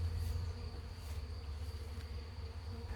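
A small honey bee swarm hums as it is shaken into a clean little hive box with starter frames, a steady, faint droning buzz running unbroken throughout.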